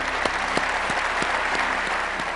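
Steady applause from an audience honoring WWII veterans, dense continuous clapping at a constant level with a faint low hum beneath and no speech.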